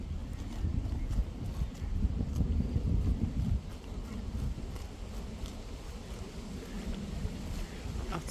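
Cows trotting and running on a farm, a dull, irregular patter of hooves over grass or earth amid steady wind noise across the whole stretch, loudest in the first few seconds.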